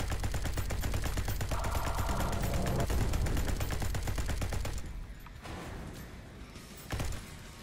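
Enemy machines in the Generation Zero video game open fire in a dense, sustained burst of rapid gunshots that dominates the first five seconds, then it drops away to a quieter background with one short later burst; no talking.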